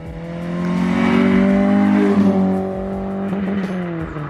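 A Citroen Saxo VTR with a 1.6 litre 8 valve engine and a Sportex back box drives past, its exhaust note rising loud and harmonic as it revs hard toward the limiter, then easing away with some tyre noise.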